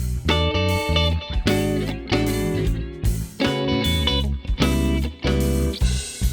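Electric guitar played through a delay effect from Waves CLA mixing plug-ins, loud chords and notes struck in repeated phrases with echoing tails filling the gaps, close and dense over about six seconds.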